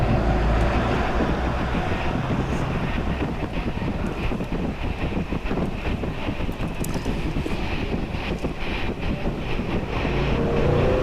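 A train rumbles past mango orchards in bloom near Malihabad, a continuous loud roar heard from nearby with heavy wind buffeting throughout.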